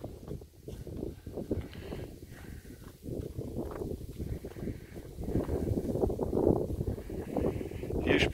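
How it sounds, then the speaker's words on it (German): Gusty wind blowing outdoors, a broad, steady roar that swells and eases over several seconds and builds louder toward the end, with no voices. "Hört ihr den Wind?"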